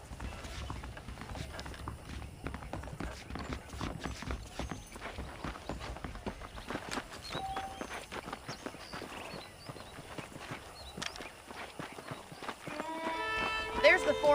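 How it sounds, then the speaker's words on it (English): Saddled horses trot with quick, irregular hoofbeats in Red Dead Redemption, a steady mid-distance clatter running through the whole stretch alongside a faint mechanical rattle, with voices speaking over it. "The horses are saddled up over here."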